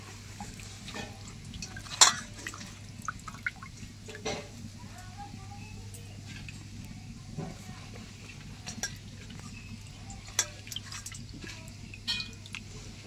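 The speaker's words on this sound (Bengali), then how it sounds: "আগে পাতাগুলোকে একটা একটা করে ধুয়ে নেব।" Faint water drips and small clinks in a kitchen while ridge gourd leaves are washed one at a time, scattered irregular drops over a low steady hum.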